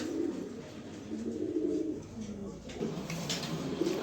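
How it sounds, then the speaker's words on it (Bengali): Low cooing from a pair of racing pigeons, male and female, rumbles on and off beneath a busy background, with faint voices nearby. "এই যে এটা হচ্ছে নর কবুতর"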